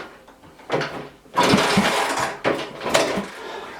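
A BSA C10 250 motorcycle engine, unstarted for fifty years, catches and runs on carb cleaner in a few loud uneven bursts with mechanical clatter, close by and without talk.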